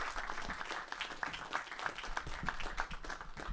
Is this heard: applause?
yes